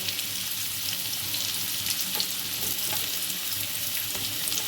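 Green banana pieces fry in a pan alongside papaya and potato with a steady, close crackling sizzle and faint stirring taps, and no talking.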